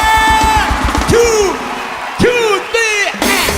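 Concert crowd cheering and yelling loudly as a performer appears on stage, with sharp bursts of whoops rising over a dense roar, and a voice counting over it.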